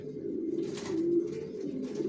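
Johnson racer pigeons coo in low, throaty rolling calls, several birds overlapping in a steady murmur at close range with soft shuffling in between.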